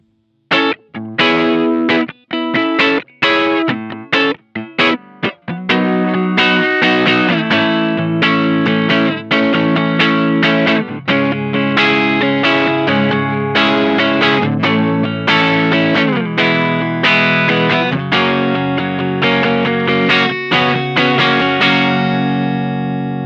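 A Gibson '68 Les Paul Custom reissue with a Nordic Blue quilt top, played on the neck pickup through distortion and chorus effects: sustained, driven rhythm chords that ring out continuously after a few choppy opening strums, loud and alone.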